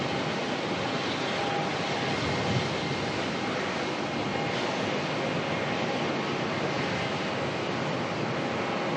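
Qantas 610 jet taking off from an intersection at Melbourne Airport, a broad, steady roar of engine noise heard from a distance that holds evenly throughout.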